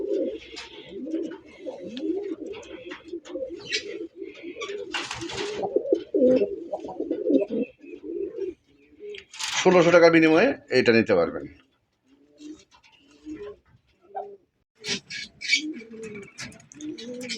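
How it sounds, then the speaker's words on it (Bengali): Male pigeons of fancy breeds being sold coo in low, repeated throaty rolls through most of the stretch. Someone talks over them, and a burst of wing flapping comes midway. "বন্ধুরা এখানে দুইটা কবুতর আছে,"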